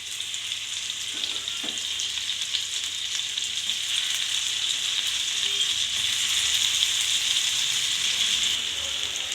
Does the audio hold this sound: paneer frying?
yes